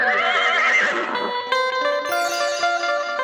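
A horse gives a loud, wavering whinny up close as part of a devotional storytelling performance. Sustained musical tones follow it, and nobody speaks.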